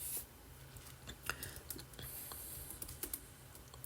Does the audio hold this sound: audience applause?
no